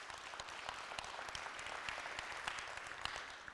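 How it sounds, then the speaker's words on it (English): An audience at an elementary school living history presentation gives a faint, somewhat distant round of applause, with individual claps standing out in a steady patter. "if you could please give her a round of applause"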